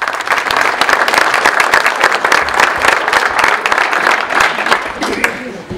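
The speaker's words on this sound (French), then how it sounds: "On peut les applaudir." Audience applauding volunteers from local associations at a mayor's New Year address in a town hall, a dense steady wash of close clapping filling the whole stretch without letting up.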